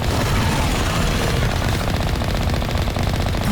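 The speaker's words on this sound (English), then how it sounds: "Now I got a cannon." A cannon weapon firing in Mass Effect Legendary Edition, loud rapid bursts of repeated shots hammering continuously and close, with no talk over them.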